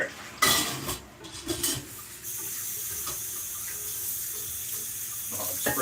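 Dishes being washed in a kitchen sink under a running tap, with clinks of pans and cutlery at first, then a steady hiss of water flowing close by.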